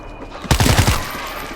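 Rapid burst of gunfire from the zombie shooter World War Z Aftermath, set in Moscow: a quiet lead-in, then a loud cluster of several close shots fired in quick succession, fading into a lingering rumble.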